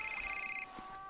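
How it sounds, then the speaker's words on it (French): A telephone rings once with a bright, electronic trill that cuts off abruptly after about half a second, leaving a quiet room. "Téléphone."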